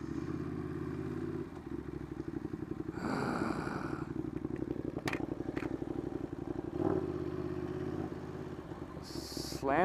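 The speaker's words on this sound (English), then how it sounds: "the sound of this twin in through that Competition Works exhaust" Ducati Monster 821 twin-cylinder engine breathing through a Competition Works exhaust on the road, a loud pulsing, throbbing note with clattering texture and brief revs, heard up close from the rider's position.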